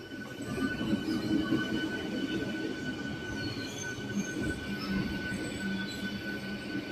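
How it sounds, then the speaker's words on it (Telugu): MEMU local train slowing to a stop at platform 1 of Ramagundam railway station, with a steady rolling rumble and thin metallic wheel squeal running throughout, close and fairly quiet, no voices. "Ramagundam south central railway zone 1వ నెంబర్ ప్లాట్ఫామ్ మీద ఆగింది."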